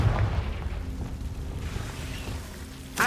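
A Confringo fire spell blast in the video game Hogwarts Legacy, a rumbling boom that fills the opening and fades into a low sustained roar, with a sharp burst near the very end.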